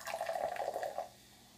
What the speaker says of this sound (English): So pour it into the taster glass.